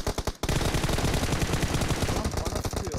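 Rapid automatic gunfire in the battle-royale shooter PUBG Mobile, a dense loud stream of shots that briefly pauses near the start, then continues steadily throughout.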